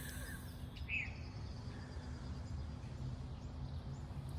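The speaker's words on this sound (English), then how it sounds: "in the meantime, we can enjoy the birds," A faint bird chirps once over steady low outdoor rumble, with occasional soft distant tweets in an otherwise quiet backdrop.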